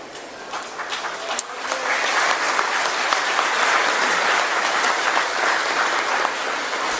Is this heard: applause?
yes